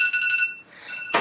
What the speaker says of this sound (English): That's my alarm telling me I need to get up.